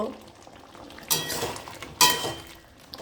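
A spoon stirs prawn and pointed gourd curry with garam masala in a pan, two distinct scraping strokes standing out over a soft background sizzle, close and fairly quiet.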